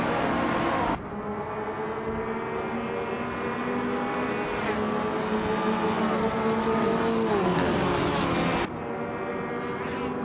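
At the start of a video-game touring-car race, a 2010 Opel Corsa in the TCA class revs hard, its engine note climbing and dropping through gear changes among other cars, loud and continuous with no talking.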